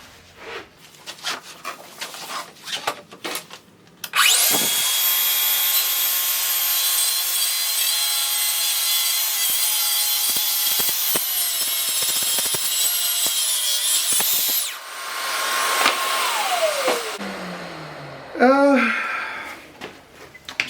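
A track saw plunges and rips through wood: handling knocks, then a loud sustained cutting whine lasting about ten seconds, a brief dip, and the motor spinning down with falling pitch, close and prominent.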